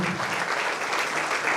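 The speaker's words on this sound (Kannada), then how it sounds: "ಸೊ ಅವ್ರಿಗೊಂದು ದೊಡ್ಡ ಚಪ್ಪಾಳೆ ಕೊಡಿ ಮಲ್ಬಾರ್ದಲ್ಲಿ" Dense, steady applause from an audience at a Malabar education event, many hands clapping at once in a loud, continuous wash with no pauses and no talk over it.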